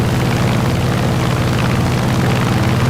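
A Hellcat aircraft engine in Microsoft Flight Simulator, a loud, steady, continuous propeller drone with a dense low rumble that never lets up.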